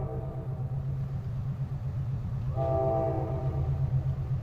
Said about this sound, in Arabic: وفي قطر تاني جاي اهو برضه